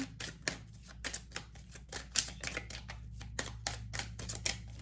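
Rapid, irregular papery clicks and flutters of tarot cards being shuffled, close up, in quick bursts with brief pauses.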